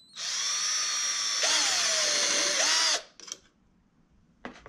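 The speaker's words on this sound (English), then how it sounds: "And actually screw it right to the base." Power drill driving a short screw into a base, a steady whine of about three seconds that rises in pitch partway through, followed by a few short clicks and brief bursts, close and fairly quiet.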